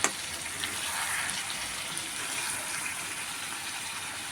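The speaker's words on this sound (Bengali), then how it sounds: "যে আলু দিয়ে ভালো করে এবার নাড়াচাড়া করে নেব" Potatoes being stirred through chicken kosha masala in a pan give a steady, close sizzling hiss with soft watery rustle, continuous and even throughout, no voices.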